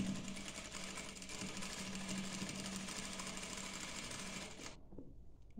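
A sewing machine stitches a dishdasha in a steady, loud continuous whir for nearly five seconds, then cuts off abruptly into quiet.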